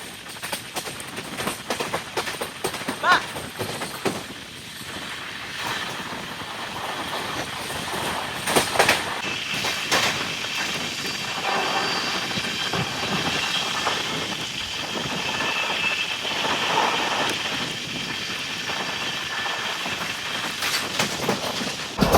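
On board the Seshadri Express with its LHB rake, the train runs steadily with continuous rumbling, rhythmic wheel clatter and occasional rattles and squeals, with no voices.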